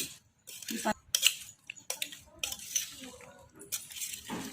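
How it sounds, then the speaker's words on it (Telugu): A spoon scrapes and clinks against a bowl while mixing a black grape pickle made with oil, giving irregular metallic taps and scrapes up close, with someone talking over them. "ఇప్పుడు ఇదంతా మంచిగా కలుపుకుందామండి"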